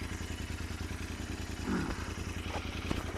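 A Royal Enfield Interceptor 650 idles and rides in a low, steady, pulsing engine thrum with faint mechanical clatter and a slight rise in revs midway, heard close.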